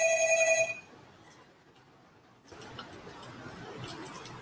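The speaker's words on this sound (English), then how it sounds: "Oops, that's my phone going off." A mobile phone rings with a bright electronic tone for under a second and then stops, leaving quiet room noise and faint ticking during a biology lecture.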